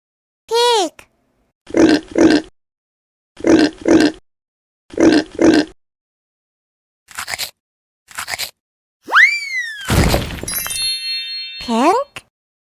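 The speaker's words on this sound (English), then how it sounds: "Pig." A toy pig in an animal-sound game gives a series of short paired grunting oinks, loud and close, separated by silences. Chimes, jingles and a swooping sound effect follow near the end.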